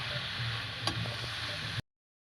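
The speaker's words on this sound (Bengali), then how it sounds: "একটু নাড়াচাড়া করে সব মশলা দিয়ে চিংড়ি মাছ দিয়ে মিশিয়ে দেবো শাকটা।" Fenugreek greens with spices and prawns are stirred in a pan, giving a soft continuous sizzle with a faint scrape or tick of the utensil, before the sound cuts off abruptly.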